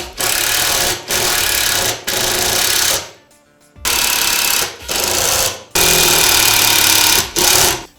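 A power driver tightening screws during an RZR Stage 4 installation, a loud buzzing whir in several separate bursts of about a second each, with brief gaps between them.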